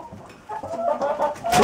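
Laying hens clucking close by in winter, a quick run of short throaty clucks rising into a louder squawk at the end.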